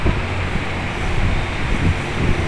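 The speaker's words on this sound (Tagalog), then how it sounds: "nilipad ng hangin yung ulan." Strong wind drives rain in a steady, loud rushing roar that buffets the microphone throughout, with no pauses and no voices.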